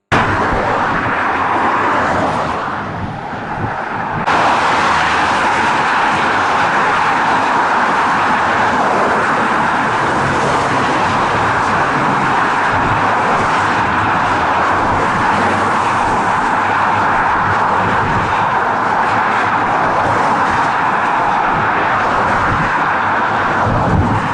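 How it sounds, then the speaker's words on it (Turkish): Traffic flows steadily on the TEM motorway through the Bolu pass, making a loud, continuous roar of passing vehicles with a brief dip near the start. "Tem otoyolu Bolu geçişinde trafik akıcı şekilde ilerliyor"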